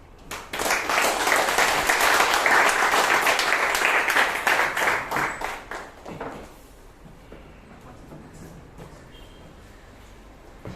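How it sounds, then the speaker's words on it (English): A Bangalore Toastmasters club audience breaks into dense, loud applause for several seconds, then the clapping thins into scattered claps and fades into quiet room tone. "Please give a big round of applause once more."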